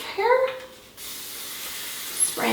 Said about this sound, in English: spraying on all sides